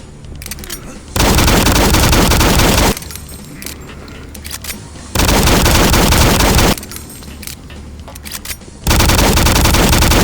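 A pistol in the Doom 3 mod Phobos fires in three rapid, loud bursts, each emptying in about a second or two, separated by short quieter gaps.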